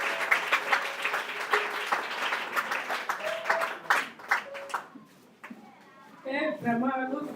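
A church congregation applauds at a farewell service for a pastor, dense rhythmic clapping that fades toward the end as a voice begins speaking over it.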